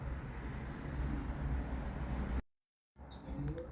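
A steady road and cabin hum from a 2020 Mitsubishi Outlander on a test drive, broken by a short moment of total silence before the drone returns.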